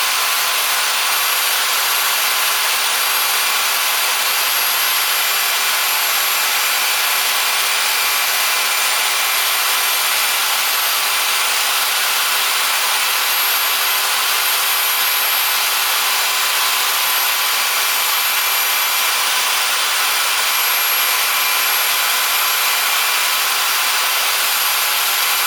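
A Harbor Freight pipe threader runs slowed down through a snowblower gearbox, giving a steady, continuous mechanical whir and hiss that holds level the whole time with no talking.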